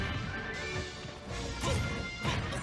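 Mario lands forward smash attacks in Super Smash Bros, and each strike gives a heavy crashing impact. Two strong hits stand out over busy game noise, with no talking.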